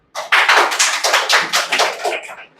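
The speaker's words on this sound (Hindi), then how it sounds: "ताली बजा दीजिए" A short burst of applause from a group of ninth-grade students at a school general knowledge quiz, a couple of seconds of lively clapping that fades at the end.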